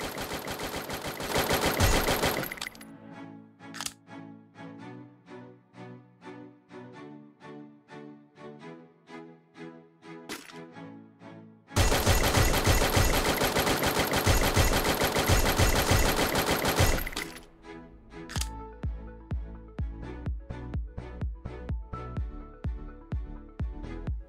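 Automatic gunfire from a low-accuracy, 30-round weapon in the mobile shooter Free Fire: loud, rapid bursts of shots with brief gaps between strings, close and alone, with no voices.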